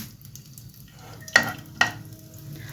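Mustard and cumin seeds hit hot oil in a pan, giving two sharp, loud sizzling bursts about half a second apart, with a quieter background hiss before and after.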